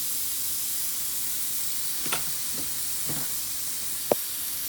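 Food frying in a pan after being flipped, a faint steady sizzle and hiss with a few soft pops and one brief sharp click.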